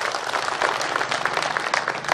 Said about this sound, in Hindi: मेरा मन है आदरणीय चौधरी समर जी के लिए, दोनों हाथ आकाश में खोलकर ताली बजा दीजिए